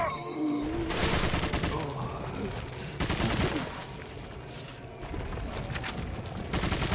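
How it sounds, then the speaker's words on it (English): Rapid, sustained gunfire from Leon's gun in Resident Evil 4 HD rattles in loud, dense bursts with short gaps, set against game ambience, with some voice faintly underneath. "He's just shooting for the sake of shooting."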